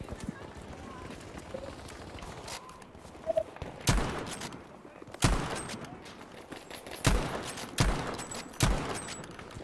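Battlefield V multiplayer gunfire cracks out in several sharp, spaced shots amid a busy battlefield din, some loud and close, others fainter, while a player talks over the action.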